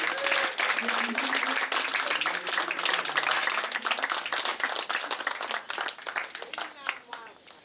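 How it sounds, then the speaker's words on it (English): An audience at an Independence Day flag raising ceremony breaks into loud, sustained applause, dense clapping from many hands that gradually thins toward the end, with voices talking over it. "Please give them a big round of applause."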